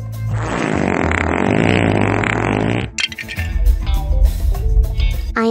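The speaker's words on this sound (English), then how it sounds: "He is so stinky that when he farts, there is a toxic alarm." A cartoon fart sound effect blasts loud and sustained for about three seconds, then cuts to a busier stretch of mixed noise and music-like bursts.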